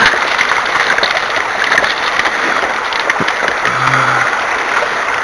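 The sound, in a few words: water and material pulled up through a HDP Clear hand dredge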